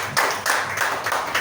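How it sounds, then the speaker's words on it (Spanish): A church congregation claps in praise during a sermon, a broad wash of applause that swells in several bursts over a steady roomy background. "Dale un aplauso al Señor"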